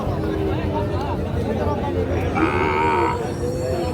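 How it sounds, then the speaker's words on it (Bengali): A Sahiwal bull calf of five to six months moos once, loud and close, at a busy rural cattle market, with crowd chatter and voices throughout. "একটা 5-6 মাস করে বয়স হবে শাহিওয়াল সার বাছুর।"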